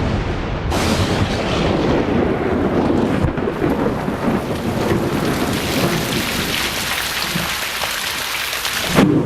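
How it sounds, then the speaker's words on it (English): Heavy tropical rainstorm pouring steadily and loudly, with rolling thunder rumbling through the downpour; a dense continuous roar of rain on surfaces throughout, no voices. "Tropical storms lash the planet."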